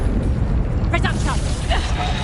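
A Reducto blasting spell explodes in Hogwarts Legacy, a loud, rumbling burst over steady background roar, with brief chirpy effects trailing after it.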